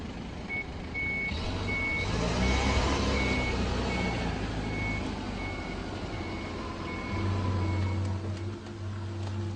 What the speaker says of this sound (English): Reverse is then selected, the inch brake released, and the accelerator pressed down to back away.